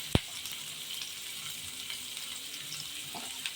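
Chopped onions fry in a pan with a soft, even hiss throughout, opening with a sharp click and a few faint knocks later.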